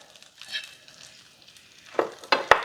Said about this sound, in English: Now I'm going to put these pork chops back in that pan.